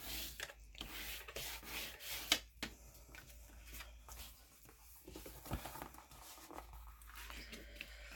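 Paper being scored with a tool while making a folio folder journal, a steady run of soft rubbing and rasping strokes close by, with a few sharper scrapes mixed in.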